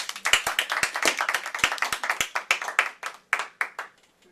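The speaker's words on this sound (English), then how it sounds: "I think we should give a round of applause." A small seminar audience claps at the close of an academic talk, with individual hand claps clearly separable in a brisk, uneven rhythm that thins out and trails off toward the end.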